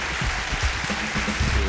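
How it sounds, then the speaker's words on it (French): A festival audience at L'Étrange Festival 2020 breaks into applause: dense, steady clapping from a crowd, fairly loud and sustained for under two seconds with no voices over it. "je vous demande un tonnerre d'applaudissements pour l'équipe de l'étrange festival"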